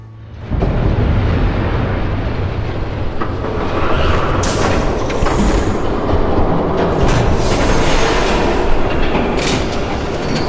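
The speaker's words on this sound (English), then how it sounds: "There's a train coming." Approaching train in the Telltale Batman video game, a loud, continuous rumbling roar that starts abruptly and grows heavier, with rattling clatter and metallic bursts layered on top.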